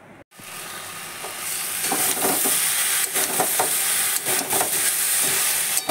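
Chicken sautéed and stirred in a pan for dupure chicken, a steady loud sizzle of frying with repeated scraping stirs, close and continuous after a brief quiet start.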